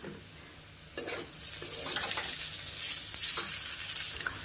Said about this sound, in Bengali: আমি কিন্তু এখানে ডাল ঘোটা দিয়ে ম্যাশ করে নিচ্ছি।